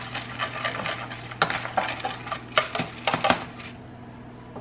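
Powdered sugar being broken up and fluffed in a container, with scattered light scrapes and clinks of a utensil against the sides, irregular and close, with no talking.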